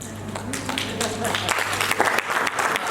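Applause rises from an audience at a business event, a dense burst of clapping that grows louder across the moment, with talk audible beneath it.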